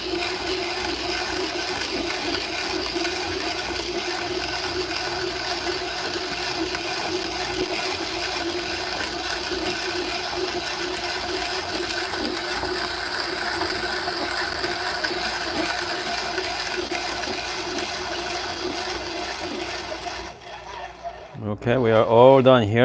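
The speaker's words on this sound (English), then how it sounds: "the length of the arm makes a lot easier to grind the coffee beans" A manual espresso setup's long-armed hand grinder crushes coffee beans in a steady, continuous gritty churning that carries on for about twenty seconds, close and moderately loud, ending with a brief clatter.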